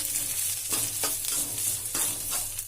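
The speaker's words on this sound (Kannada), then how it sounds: "ಇಲ್ಲಿ ಎರಡದ್ದು ಒಂದು ಬಟ್ಲ ಹಸಿ ಕೊಬ್ಬರಿ ಹಾಕೊಂಡಿರ್ತೀನಿ ಏನಿದೆ ಇದ್ರೊಳಗೆ ಸ್ವಲ್ಪ ಹುರ್ಕೋಣ" Grated fresh coconut fried and stirred in a pan for chutney, a steady close sizzle broken by repeated scraping strokes of a spoon about every half second, with no talk.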